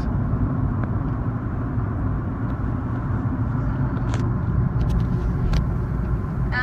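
Road traffic passes near a parked Nissan 370Z, a steady low rumble of vehicles that holds evenly throughout with no voices.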